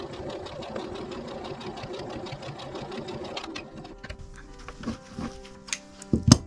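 A sewing machine runs steadily, stitching a patchwork binding in a rapid even whir for several seconds, then slows into a few separate bursts near the end.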